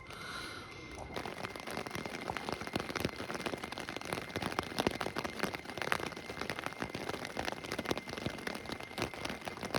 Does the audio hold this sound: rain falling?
yes